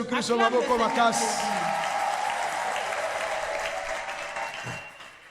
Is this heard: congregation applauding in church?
yes